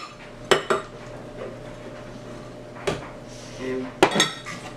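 Broccoli and cauliflower pieces dropped into a Ninja Foodi cold and hot blender jar, a few sharp knocks and clatters against the container with quiet handling in between.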